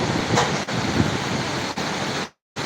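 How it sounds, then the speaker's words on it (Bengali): Rain falling during a windy storm in Dhaka, a dense steady hiss with wind roar, ending in a sudden short dropout before resuming. "এবং বৃষ্টি পড়তেছে অনেকদিন পর বৃষ্টির দেখা"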